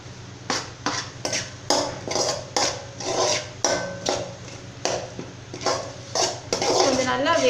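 A metal utensil scrapes and knocks rhythmically against a pan as goat brain and masala are stirred, roughly a dozen close clanking strokes in steady succession, with speech underneath.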